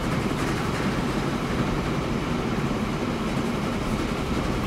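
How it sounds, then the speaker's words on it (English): A train passes in the Transport Fever video game with a loud, steady, close rumble and clatter that fills the whole stretch without a break and with no speech. "Oh, look at this train."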